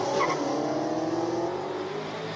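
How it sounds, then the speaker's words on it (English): Tires on a classic car squeal and skid as it burns rubber on the track at a Cape Town speed event, a loud, harsh, continuous screech with engine roar underneath. "they're going to burn some rubber now, but they've been told to do it just a little bit"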